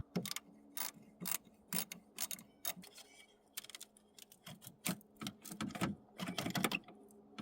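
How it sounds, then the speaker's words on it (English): A wrench ratchets in quick bursts of clicking while loosening the 10mm nut on a Honda CR-V's positive battery terminal, close and faint, with short pauses between runs and no talking. "Just lift this red cover up and loosen this 10mm nut."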